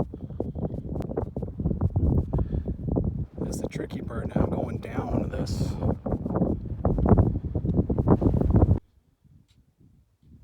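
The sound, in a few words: strong wind gusts on a mountain ridge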